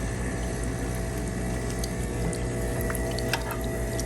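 A Terra Kaffe automatic espresso machine runs its self-cleaning cycle, flushing water through the system with a steady pumping hum and continuous dripping and trickling, close and unbroken.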